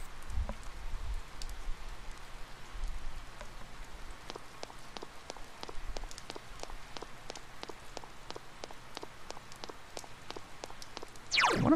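Steady rain falls on a rainy day in the video game Persona 4, a continuous soft hiss dotted with sharp droplet ticks throughout, with no talking.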